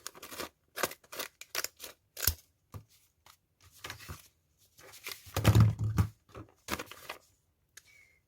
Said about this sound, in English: This one slightly bigger, so I'm just going to cut it off there.